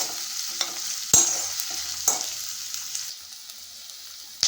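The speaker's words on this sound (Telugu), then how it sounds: "ఉల్లిపాయలు, వెల్లుల్లి దూరగా వేయించుకోవాలండి." Onions and garlic fry in a pan with a bright, close sizzle, punctuated by several sharp stirring knocks and scrapes that fade slightly toward the end.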